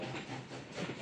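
A train rolling into town, a steady broadband rumble and hiss of wheels and carriages close by, continuous and loud with no voices.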